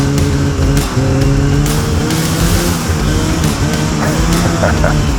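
A snowmobile engine revs under throttle on snow in Alaska, a loud steady droning roar with shifting pitch heard close, with faint voices in the background.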